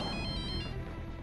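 A telephone rings in a domestic scene, a soft electronic ringtone with a repeating tonal pattern that continues steadily across the whole moment.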